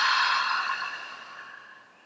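A single long open-mouthed exhale in pranayama breathing practice, breathy and close, fading gradually over about two seconds with no talking.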